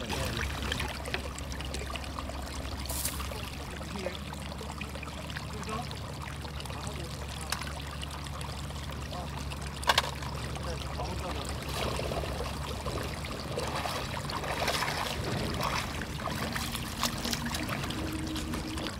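Water flows and pours into a sunlit plastic container holding small freshwater fish, a steady close trickling babble that runs continuously, with a brief louder splash midway.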